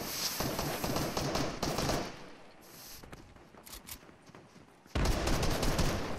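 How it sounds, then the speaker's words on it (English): Bursts of rapid gunfire from a player shooting in Fortnite, loud clattering volleys at the start and again after a quieter stretch of scattered shots, with no talking. "Who's that person shooting me from?"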